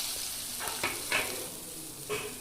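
Eggplant pieces tossed into a frying pan of already-fried potatoes set off a soft, low sizzle with a few brief crackling bursts, fairly faint throughout.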